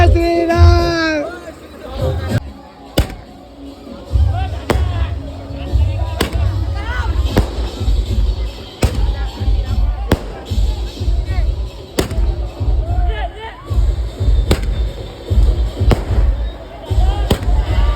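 Firecrackers and fireworks set off during a Ram celebration rally, with sharp bangs repeating every second or two over a bustling crowd and people talking nearby.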